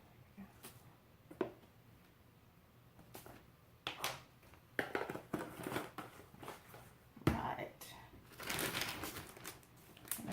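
A plastic bag holding chicken wings and seasoning such as chili powder is handled and closed: scattered crinkling bursts, near and moderately quiet, coming in irregular clusters.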